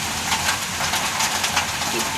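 Rain falls outside a kitchen as a steady, fairly loud broadband patter and hiss, with a faint voice murmuring under the rain.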